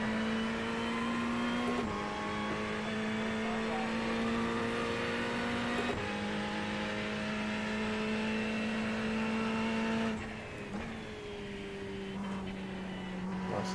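Ferrari race car engine in the iRacing sim, holding a steady loud drone with a strong low harmonic and bright overtones, pitch stepping at gear changes around two, six and ten seconds, then dipping briefly as the revs fall.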